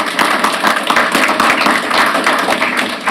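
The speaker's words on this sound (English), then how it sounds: "Let's give all of our women leaders a big round of applause." Board meeting audience applauding women leaders: dense, steady clapping from a group of people, loud and close, continuing throughout.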